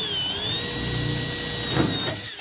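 A power tool is used while riveting parts of a flat portico roof together: one continuous, close, high-pitched motor whine lasting a couple of seconds and then stopping abruptly.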